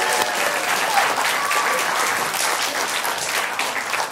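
An audience at a magician's live magic show applauds steadily, a dense, loud wash of clapping that holds for the full few seconds without a break.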